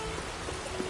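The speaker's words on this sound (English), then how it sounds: "Let it rain." Rain summoned in The Witcher 3 video game, a steady hiss of falling rain and drops pattering on surfaces, continuous and fairly full for a short moment.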